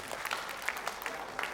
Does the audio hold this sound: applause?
yes